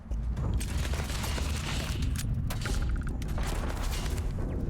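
Turret gunfire in the video game Starfield: a dense, continuous clatter of rapid shots and booms over a heavy low rumble, loud and sustained throughout.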